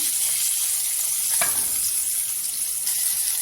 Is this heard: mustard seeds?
yes